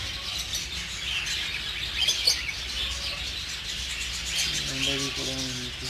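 Cockatiels chirp and tweet in an aviary where budgies and Alexandrines are also kept, several bright calls over a busy background, with a short run of repeated lower notes near the end.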